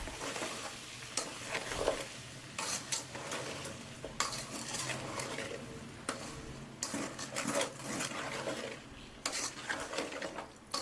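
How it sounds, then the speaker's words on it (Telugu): Sambar being stirred and mixed with salt in a pot, bursts of scraping spoon strokes against metal with short pauses between, close and fairly quiet, no talking. "దీనిని మంచిగా కలుపుకోవాలి"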